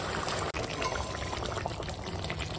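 Cooked fish and potato curry is poured out of a pan in a steady, continuous wet pour, loud and close, with a brief dip partway through and no talking.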